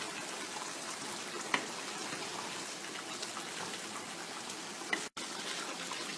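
Chicken karahi simmering uncovered in a pan, a steady close sizzle and bubbling hiss with a couple of faint ticks and a brief dropout near the end.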